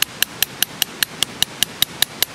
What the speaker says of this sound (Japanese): ちょっとペグ打ちしてみます。